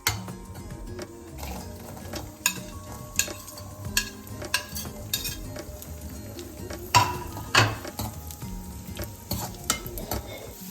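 Raisins frying in ghee for Kerala payasam, a close bright sizzle broken by repeated scraping and clinking of a metal spoon against the pan and a few sharper utensil knocks, with nobody speaking.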